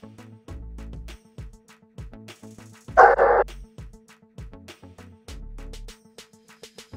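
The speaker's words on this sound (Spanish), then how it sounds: "Con este ejercicio podrás enseñar a tu perro a ladrar cuando tú se lo digas o lo necesites." A trained dog barks on command during an obedience session, with one sharp loud bark standing out amid softer yips and repeated low background tones.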